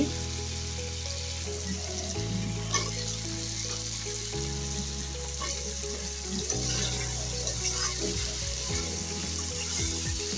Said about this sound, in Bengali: তো এই তো আমি মাছটা ভালো করে কষিয়ে নিচ্ছি। এখন আমি লাউগুলো দিয়ে দেব।